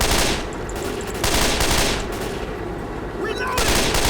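Rapid bursts of automatic gunfire in Left 4 Dead 2 crackle loudly and densely in several strings separated by brief gaps, close and dominant over faint talk.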